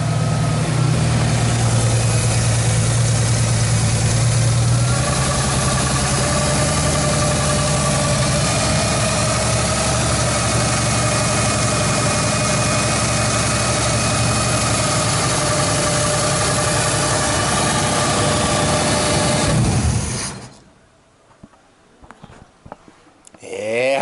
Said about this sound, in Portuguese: Olha o funcionamento desse motor